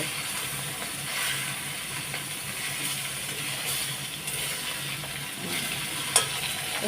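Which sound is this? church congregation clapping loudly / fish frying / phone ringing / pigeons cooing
fish frying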